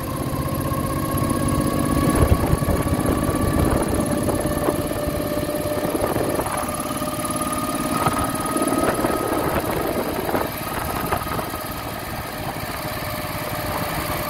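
A 1968 Moto Guzzi V7 700 motorcycle with freshly sleeved cylinders, running steadily while ridden at about 30 mph, a continuous loud engine drone with a few brief bumps and rattles and no talking.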